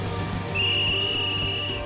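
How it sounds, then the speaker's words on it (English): A slinger on a construction site blows a single sustained whistle blast, loud and steady over a constant background rumble of site machinery. "When the slinger does turn around and blow the whistle"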